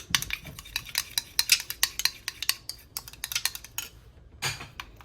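Rapid clinking scrapes of a spoon stirring a homemade lemon-juice skin polish mixture in a small bowl, close and busy with irregular taps, a short pause near the end before stirring resumes.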